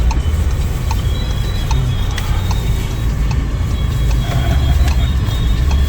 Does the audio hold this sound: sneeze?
no